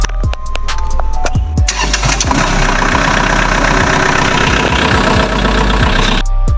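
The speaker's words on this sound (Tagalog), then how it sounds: "pagkatapos ng lahat ng iyon, ay pwede na natin paandarin ang traktor." A tractor engine is started: a few sharp starter clicks and cranking bursts, then the motor catches and runs loud and steady with a knocking idle, close by and alone until it cuts off at the end.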